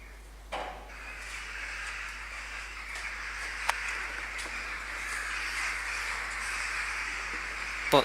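Jackdaws call in a farmyard: a few sharp, scattered caws, fairly distant over a steady outdoor hum, with one louder call near the end.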